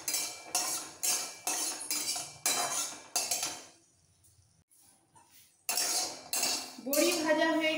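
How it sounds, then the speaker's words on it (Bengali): Lentil dumplings (bori) frying in a pan with seasoning are stirred with a metal spatula, giving repeated loud scraping clinks in a steady rhythm, a short near-silent pause, then more scraping. A voice briefly joins at the end. "বড়ি কটা একটু লাল করে ভেজে নেব"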